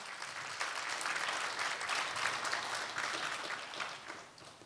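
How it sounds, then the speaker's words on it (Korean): Steady audience applause for amateur actors at a Korean poetry recital stage event, a dense wash of many hands clapping at moderate volume throughout, fading slightly near the end, with no talking. "애쓴 아마추어 배우들에게 큰 박수 부탁드립니다."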